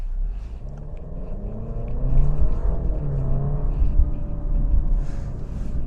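A 2024 Alfa Romeo Giulia accelerates with a low, steady engine rumble that swells a little as it pulls, heard from inside the car with no talking.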